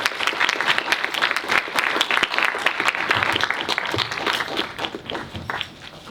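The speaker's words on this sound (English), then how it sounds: "please give our candidates a final warm round of applause as they exit the stage" Dense applause from a sizable audience at a student election debate fills the room, holding steady before tapering off toward the end.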